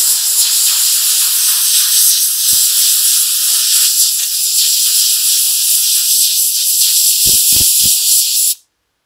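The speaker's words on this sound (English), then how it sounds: "compressed air." Loud, steady hiss of compressed air blowing across a freshly glued two-piece bow to chill the glue, continuous for about eight seconds before cutting off abruptly, with a few faint knocks near the end.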